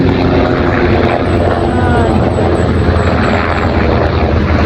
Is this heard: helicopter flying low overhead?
yes